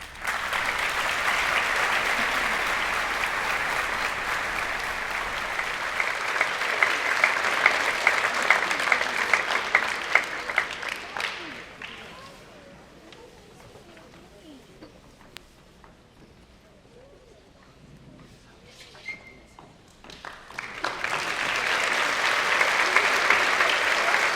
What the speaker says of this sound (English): join me in welcoming Mrs. Morgan Burburan to the stage with a round of applause.